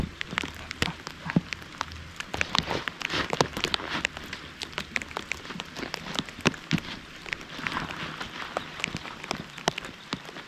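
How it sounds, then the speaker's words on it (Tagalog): Rain falling during a mountain motorcycle ride through Benguet and Ifugao, Philippines: dense, irregular patter and crackling drops, close and fairly loud, growing heavier over a low rumble. "parang lumalakas yung ulan par"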